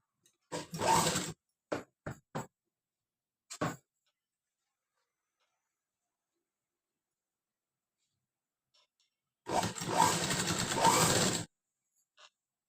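Sewing machine stitching a back patch onto a blouse: several brief stitching bursts, then a longer steady run of stitching after a quiet pause, close and clear with no talk.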